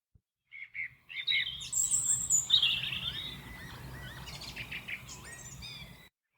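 Several birds sing on a spring morning, with bright chirps and warbling phrases close by over a faint outdoor hum, with no voices.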